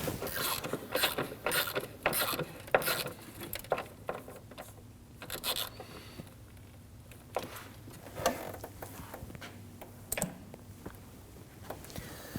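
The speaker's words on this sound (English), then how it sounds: "You simply want to go ahead and snug down all 4 of your bolts here, holding the battery tray in place." Bolts holding the battery tray on a 2009-2017 Volvo XC60 3.2L are snugged down with a ratchet, giving close, irregular bursts of clicking and metallic clatter with brief pauses between them.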